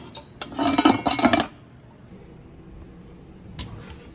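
A pan lid closing over Nigerian stew gives a quick burst of metallic clanks and rattles close by, then quiet, with one more short clink near the end.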